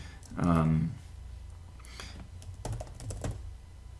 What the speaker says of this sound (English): I'm just typing them out for now.